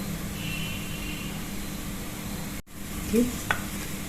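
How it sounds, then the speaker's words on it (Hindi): Onion paste sizzles and hisses steadily in hot oil with cumin in the pan, a soft continuous frying sound broken by a brief cut and a couple of light clinks near the end. "ये देखिए ये प्याज पीस के तैयार कर लिया, इसको डाल देंगे"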